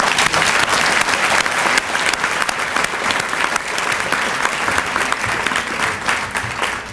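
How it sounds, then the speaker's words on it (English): Sustained, loud applause from an audience at a COMTO awards celebration honoring women, steady clapping filling the whole stretch with no voices on top. "I want to give them another round of applause"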